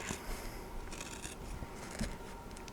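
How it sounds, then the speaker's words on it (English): Scissors snip through embroidered fabric along traced slipper pattern pieces, a run of close, crisp cuts repeating with brief pauses. "Now I'm just going to cut all around there."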